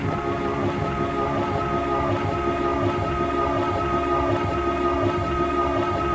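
Dense, smeared music from an old jazz tune played in reverse with delay, with a dreamy backward feel, tones swelling and washing together under echoing repeats, continuous and fairly loud.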